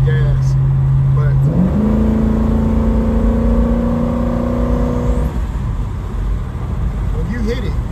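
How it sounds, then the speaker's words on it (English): A 1972 Oldsmobile Cutlass with a freshly built 460 engine idles loudly up close, then revs with a rising, sustained engine note that holds for several seconds before settling back to a rumbling idle. "I'm gonna let this car go and then I'll hit the gas."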